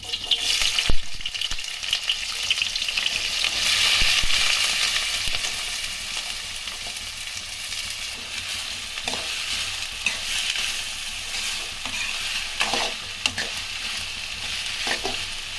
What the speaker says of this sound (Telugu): కట్ చేసుకున్న ఉల్లిగడ్డలు వేసుకోవాలి.